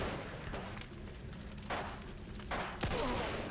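Gunfire in Mafia 2, a few sharp shots spaced out over a steady background din, moderately loud with no voices.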